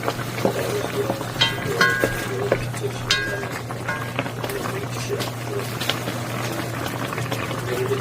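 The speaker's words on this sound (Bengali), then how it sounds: "ঝোল অবশ্যই এইভাবে উপরে দিয়ে দেবেন" Fish curry gravy is poured over the top of a Korean sea fish dish, a bubbling, liquid simmer with soft splashes and a few clinks against a steady low hum.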